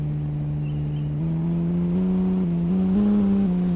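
A vehicle drives along in the video game No One Survived, its engine holding a steady droning hum that climbs in pitch in gentle steps as it speeds up, close and continuous with no talking.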